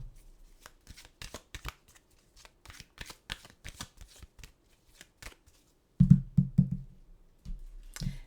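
A deck of animal oracle cards is shuffled by hand, a run of quick papery riffles and flicks at close range, then a few heavier taps and thumps near the end.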